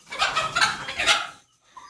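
Native village chickens and chicks cluck in a few quick, close bursts, then fall quiet before one last short call.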